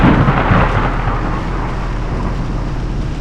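Heavy thunder from a nearby lightning strike rumbles loudly and then rolls on steadily, with rain in the background of an outdoor camping setting.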